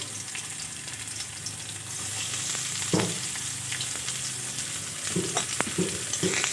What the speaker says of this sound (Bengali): কিছুক্ষণ ভাজা ভাজা করে নেব